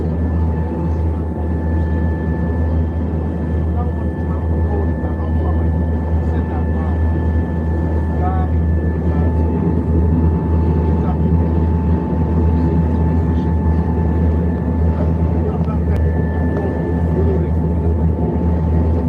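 A steady, loud engine drone with a constant tonal whine fills the cabin of an airliner waiting on the taxiway at Lagos Airport, unchanging and continuous throughout.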